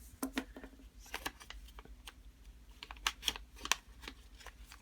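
Three twenty-dollar cash bills are handled and slipped into a paper food budget envelope, giving quiet, close rustling and papery flicks in uneven bursts with no talking.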